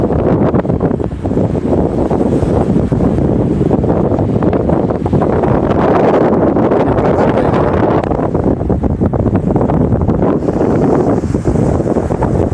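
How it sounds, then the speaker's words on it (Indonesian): Strong wind buffets the seashore at Watu Dodol on the Bali Strait, a loud continuous roaring rumble with gusting surges and surf mixed in beneath it. "Anginnya kencang banget ini di Watu Dodol ini."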